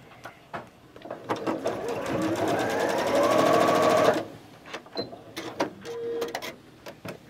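A sewing machine stitches a quilt block in one continuous run of about three seconds. Scattered quiet handling clicks come before and after the stitching.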